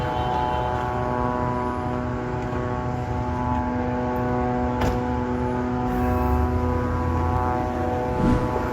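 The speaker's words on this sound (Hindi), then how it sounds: "लेबनान के आसमान पर 24 घंटे इजराइल के ड्रोन उड़ते हुए नजर आ रहे हैं।" An Israeli drone flying over Lebanon, a steady droning engine hum with a constant tonal whine that holds at an even level throughout, no talking.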